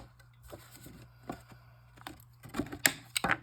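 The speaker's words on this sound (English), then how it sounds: "I'm going to round the corners, the bottom corners, on this card base" Corner rounder punching the bottom corners of a card base: quiet handling clicks early on, then a few sharp, close punching snaps near the end, with no talking.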